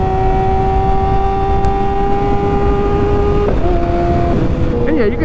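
A Kawasaki ZX6R 600 sport motorcycle holds a steady high-pitched engine note during a wheelie, then drops in pitch and wavers as the revs change, with constant wind rush over it.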